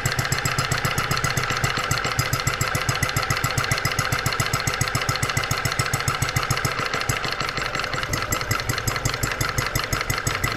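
A large single-cylinder hot bulb horizontal mill engine chugs steadily, an even, rapid thumping beat that stays loud and regular throughout with no talking.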